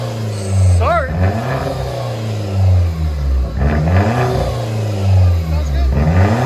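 A 2010 Hyundai Genesis with a 2.0-liter turbo engine and straight-piped dual exhaust revs repeatedly, loud swelling blasts rising and falling over a rumbling idle nearby, with people talking in the background.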